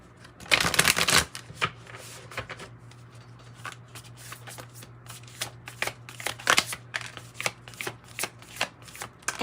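Close, rapid riffling and snapping of a Spirit Animal Oracle card deck being shuffled, a dense burst at first followed by a run of irregular flicks and slaps over a faint steady hum.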